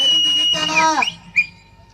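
Spectators at a jallikattu bull-taming event whistle, a shrill, piercing tone that bends and slides for about a second, followed by a short fainter chirp.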